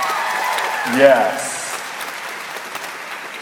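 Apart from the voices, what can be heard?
audience round of applause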